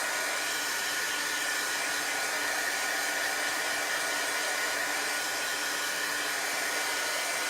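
A hair dryer blows steadily on chalk paste, a loud, constant whooshing roar that holds unchanged from start to finish with no voices.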